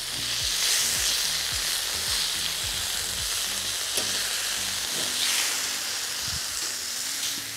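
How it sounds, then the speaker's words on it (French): Endives and seafood sear on an outdoor brasero plancha, giving a loud, continuous sizzle broken by repeated short scrapes and knocks from turning the food. "Je vais faire une dernière cuisson dans l'autre sens pour mes endives."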